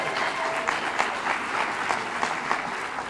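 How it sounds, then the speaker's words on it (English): An audience at a press conference claps steadily for a few seconds, with a dense, even patter of many hands heard from a moderate distance. "go ahead, clap"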